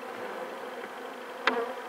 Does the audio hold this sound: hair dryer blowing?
no